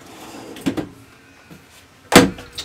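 A slide-out pantry in the kitchen of a 2014 Retreat Mabel semi off-road caravan opens with a soft rolling slide, then a sharper knock as it reaches its stop, close by in a quiet interior.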